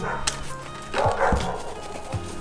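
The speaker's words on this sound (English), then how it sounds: "Those barks, they don't sound too nice." Several sharp dog barks ring out close by, a few quick woofs and yips in a short burst, with a slightly harsh, unfriendly tone.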